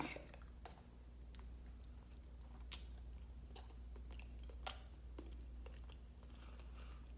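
Quiet chewing and biting of lobster ravioli at an Italian restaurant, a few soft moist bites and crunches spread over several seconds against a steady low room hum.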